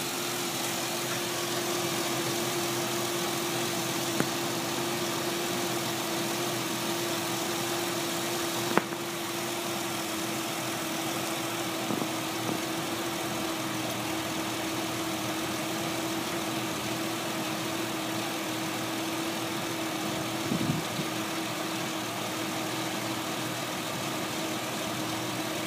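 A Ford Explorer's 4.0 engine idles steadily and evenly, with a constant low hum and a few faint clicks. No one speaks.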